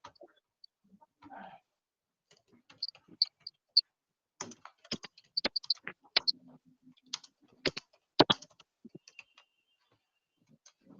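Typing on a computer keyboard: sparse, quiet clicks that gather into a few faster, irregular runs of keystrokes, close by, with no talk over them.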